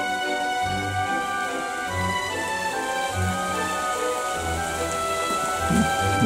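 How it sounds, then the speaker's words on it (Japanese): Rain falls steadily on surfaces at night during outdoor light-trap insect collecting, a continuous wash of patter with some nearby insect or night-ambience tones threaded through it. "またいい具合に雨が落ちてきましたね。"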